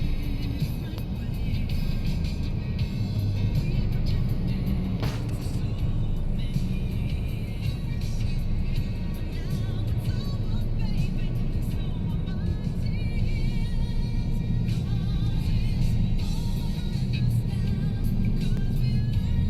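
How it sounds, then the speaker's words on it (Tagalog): Large trucks hauling sand and gravel pass along a hot, dusty road in Bulacan. Their heavy engine rumble is continuous and moderately distant, with occasional brief clatters and faint talk in the background. "Dito yung mga naglalabasan ng mga malalaking truck dito."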